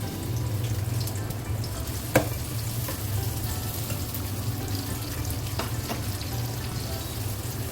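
Onion sizzles in hot oil in a kadai, a soft continuous frying hiss over a low steady hum, with a sharp clatter of utensils around two seconds and faint stirring taps later.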